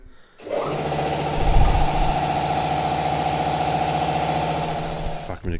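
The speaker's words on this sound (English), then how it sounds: "of course the compressor's got to go on as I'm trying to talk" An air compressor in a garage workshop kicks on abruptly and runs with a steady, loud mechanical hum and rattle until the end, with no speech over it.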